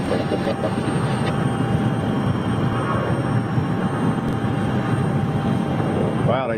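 An Embraer jet airliner at Zurich Airport gives a steady broadband engine roar that holds at an even level from start to finish, with a voice talking over it.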